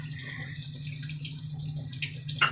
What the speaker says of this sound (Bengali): একটু সামান্য জল দেয়া হলো।